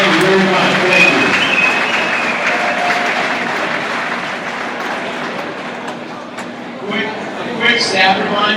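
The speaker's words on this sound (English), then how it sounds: "Give yourselves one more round of applause." A large audience claps steadily in sustained applause at a university livestock show event, a dense near wash of hands that fades somewhat midway and swells again with a few louder claps near the end.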